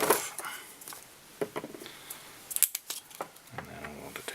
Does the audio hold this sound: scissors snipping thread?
yes